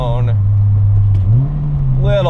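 Exhaust drone from a 1988 Honda Prelude 2.0Si with a 2.5-inch aftermarket exhaust, a loud steady low hum that rises slightly in pitch, while someone talks over it at the start and end.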